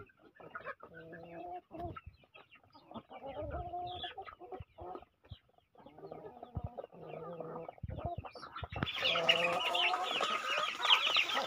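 Chickens at a rural house construction site clucking in repeated bursts close by, with occasional rooster-like calls, growing louder and busier toward the end.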